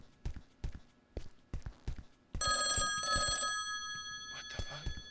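A telephone ringing in a Backrooms horror video game, a bright electronic ring bursting in after several dull footstep-like thuds, loud and close, fading into a hollow ambience with more thuds.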